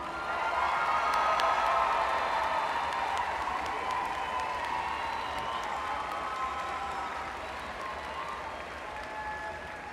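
Sustained applause from a large audience at a high school commencement ceremony, dense clapping that swells early then slowly tapers, with a few scattered cheers and voices in the crowd.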